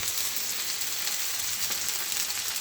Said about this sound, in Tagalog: ginisa natin yung bawang, sibuyas at saka leaves, onion